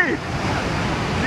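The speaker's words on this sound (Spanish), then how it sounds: "Miren qué inmensidad de agua cerquita de mí." Sea waves wash near a cave in a vast stretch of open water, making a steady broad rushing hiss, with a voice briefly heard at the start and end.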